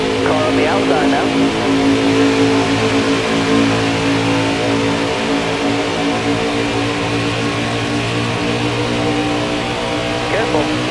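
Race car engines in NASCAR Heat 4 roar continuously through the whole stretch, a dense layered drone of several cars running together at a loud, steady pitch, with a voice talking over it.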